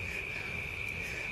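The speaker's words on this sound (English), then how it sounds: "You can hear the cicadas instead." Cicadas hum at night in one steady, unbroken high-pitched drone, fairly faint and alone, with low background noise beneath it.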